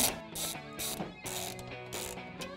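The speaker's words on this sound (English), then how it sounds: "we can go ahead and tighten them down with a 6mm Allen key." Bolts on Smittybilt XRC body cladding fitted to a Jeep Wrangler JK are tightened with a 6mm Allen key, giving close, rhythmic ratcheting clicks in regular short bursts.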